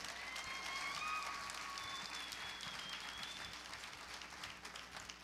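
A church congregation applauds during a bilingual Spanish-English service, a broad, distant wash of clapping that holds for several seconds and slowly thins toward the end.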